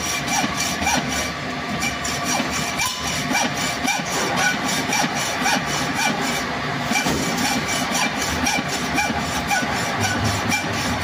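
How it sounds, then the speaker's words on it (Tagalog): A hand saw cuts through rubber for a Massey tractor coupling, steady rhythmic back-and-forth rasping strokes, loud and close, continuing throughout with no talking. "lagarin na naman."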